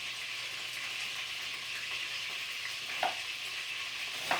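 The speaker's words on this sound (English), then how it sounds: "Saute these onions until they're soft." Onions sautéing in a pan for lamb tagine, a soft, steady sizzle close by, with two brief scraping stirs breaking through near the end, no voices.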